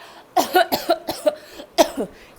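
A voice imitates a string of coughs, several short harsh bursts in quick succession followed by a louder final pair.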